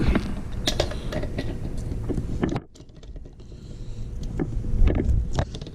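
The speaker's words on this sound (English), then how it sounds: "I'll just use my wrench here" A wrench tightens the nuts on a new bathroom sink faucet fitted with rubber washers, giving close, repeated metallic creaks and ratcheting clicks with a brief pause midway.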